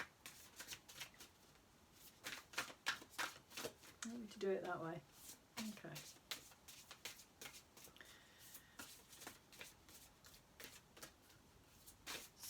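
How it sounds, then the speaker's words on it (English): Tarot cards being shuffled by hand, a crisp riffling burst near the middle with lighter card handling around it, close and fairly quiet, while someone talks briefly. "Not sure which way I should be shuffling these"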